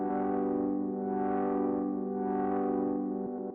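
A lo-fi house synth chord with vinyl-style distortion holds steadily while a warm resonant filter sweeps slowly up and down in gentle waves, loud and alone with no voice.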